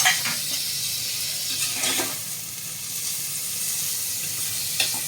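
Tomatoes sautéing with browned onion in a pan, a steady moderate sizzle with a few stirring scrapes.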